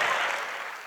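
Audience applause fills a hall during a Hindi comedy (hasya) show, a dense, steady wash of clapping that fades slightly over a brief moment.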